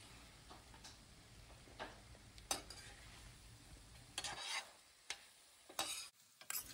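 Fried anchovies being stirred into a simmering masala gravy, with scattered spoon scrapes and taps against the pan over a soft low sizzle, close by and fairly quiet.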